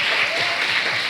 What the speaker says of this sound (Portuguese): E pode aplaudir o Senhor.